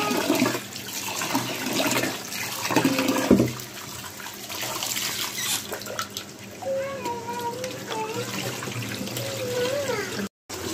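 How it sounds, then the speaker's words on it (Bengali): Rice and lentils being rinsed under running water in a home kitchen for chicken khichuri, a steady gushing splash with a few louder sloshes. Brief high, wavering tones come in partway through, along with other faint background sounds. "এবার ধুয়ে নিচ্ছি চাল এবং ডালগুলো।"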